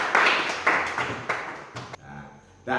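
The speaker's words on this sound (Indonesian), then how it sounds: "Berikan tepuk tangan untuk kelompok 2." A classroom group applauds a student team in a short burst of several people clapping. The claps are close and uneven and stop abruptly before a faint voice begins.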